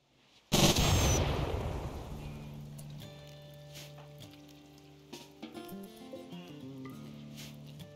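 A sharp, loud blast of automatic gunfire in RimWorld opens the moment, then decays into a long ringing tail while soft tonal game music and scattered small clicks continue at lower level.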